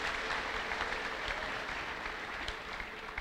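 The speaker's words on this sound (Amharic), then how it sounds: "ለጌታ ከፍ ያለ ለልታ ጭብጨባ አምጡ" A church congregation bursts into loud, sustained applause for the Lord during a prophet's service, dense steady clapping filling the space without pause.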